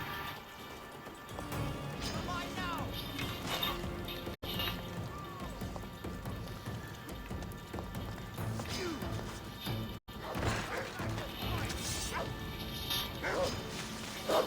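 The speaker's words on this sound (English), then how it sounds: "Damn dog." A dog barks and yips amid a dense, cluttered mix of clattering mechanical noise, with the barks partly buried in the continuous din.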